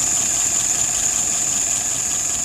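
Diedrich WO 539S engine idling steadily after start-up, a constant even drone with a bright sustained whine on top, no speech.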